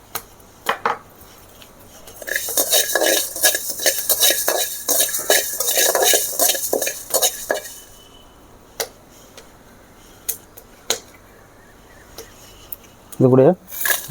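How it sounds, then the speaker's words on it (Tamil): Dried red chillies and coriander seeds dry-roasted without oil in a hot pan, stirred with a metal spoon: loud, busy scraping and rattling strokes for several seconds, then a few scattered clinks. "எண்ணெய் ஊற்றாமல் நம்ம இந்த மிளகா மல்லி இதெல்லாம் வறுத்துக்கலாம்"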